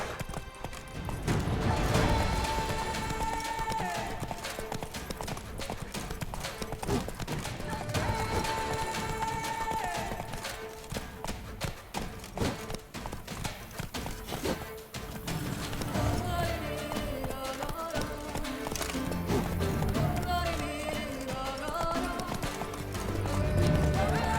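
Horse hooves clip-clopping at a gallop in The Witcher 3, a steady rapid rhythm running throughout alongside game music and occasional whinnies, fairly loud and continuous.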